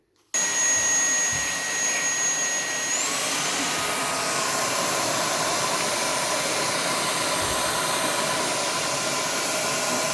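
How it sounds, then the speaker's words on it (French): A Tineco Floor One S5 Combo stick vacuum cleaner switches on with a sudden whoosh, then runs at a steady, loud whine, its pitch shifting slightly as it settles into a constant roar. "aspirateur balai"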